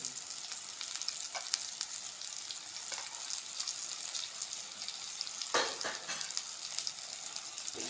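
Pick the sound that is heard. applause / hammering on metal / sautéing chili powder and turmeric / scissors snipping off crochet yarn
sautéing chili powder and turmeric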